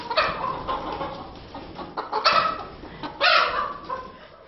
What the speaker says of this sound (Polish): To są taty kury, zwykłe nioski.